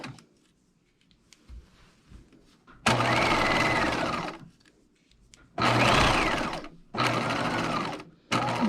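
A sewing machine stitches the curved neckline of a coat in three loud, close runs of rapid whirring, separated by quiet pauses with faint handling noises.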